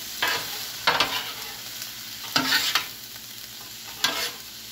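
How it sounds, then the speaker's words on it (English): Peppers and onions with beef broth tossed with metal spatulas on a hot griddle: a steady sizzle broken by four or five sharp scraping clatters at irregular intervals, close and clear with no talking. "All I'm gonna do is just work it in with the spatulas. Just toss it around."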